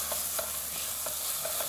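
Ground crayfish frying with chopped onions and a blended pepper mix for egusi soup gives a steady close sizzle, broken by soft regular scrapes as a spoon stirs the pan.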